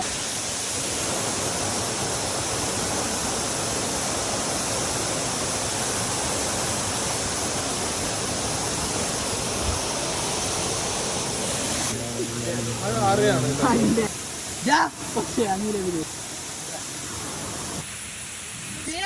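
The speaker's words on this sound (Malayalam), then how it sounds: "വെള്ളച്ചാട്ടം കുളിച്ച് ഞങ്ങൾ കേറിട്ടോ" A forest waterfall roars as a steady, loud wash of broadband noise, with brief talk and movement breaking through near the end.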